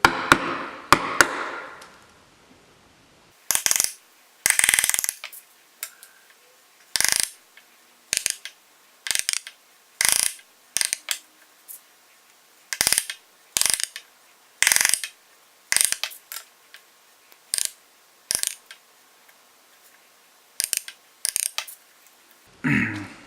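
A chisel chops out dovetail baselines in wood with a long series of sharp, close mallet strikes. They come singly and in quick pairs with short pauses between, after a brief rustle of handling at the start.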